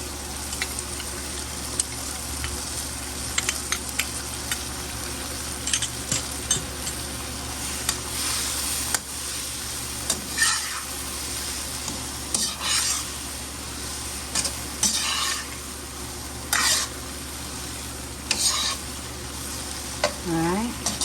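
Shrimp stir-frying in a new wok with soy and hoisin sauce, a steady close sizzle with repeated scraping and stirring strokes throughout.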